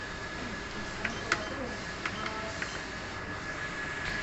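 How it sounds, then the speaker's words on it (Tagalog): A Mimaki UV printer running a print head cleaning cycle, a steady mechanical hum with a few faint clicks and ticks scattered through, heard close and alone. "Ganito naman ang pag-head clean."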